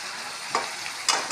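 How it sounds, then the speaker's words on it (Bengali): A little water goes into a frying spice paste with Kashmiri red chilli powder, raising two quick, bright bursts of sizzling hiss over a low background crackle. "হালকা একটু জল দিচ্ছি।"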